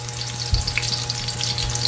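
Garlic fries in hot oil in a pan, crackling and popping constantly with a steady, close sizzle and one soft knock near the start. Nobody speaks.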